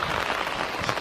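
Steady rain falls near the coast at Tateyama, Chiba, as a dense, even hiss of drops on surfaces, close and constant with no break.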